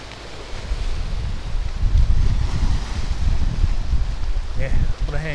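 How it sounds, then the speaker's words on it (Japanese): Strong wind roars across the Mihama Cape sandspit at Heda in West Izu, a steady low buffeting rush with surf beneath it, and a person speaks briefly near the end. "ここで風がぶつかってるんだ"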